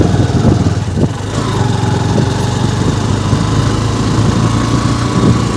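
A 125 cc motorcycle engine labours uphill on a road through dense forest, a loud, close, continuous drone that holds steady with slight wavering throughout, no voices.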